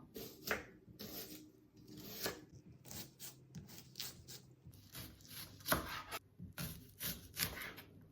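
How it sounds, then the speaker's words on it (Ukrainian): Quick, uneven knife chops dicing an onion on a cutting board, a run of sharp taps with short pauses, close and moderately loud with no talking. "не дуже дрібним кубиком нарізаю цибулю"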